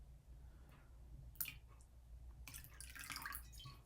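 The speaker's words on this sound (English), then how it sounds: "Let's put some apple cider vinegar in there." Apple cider vinegar is poured into a glass of lemon water, a faint close trickle and splash that comes in two short bursts against a quiet background.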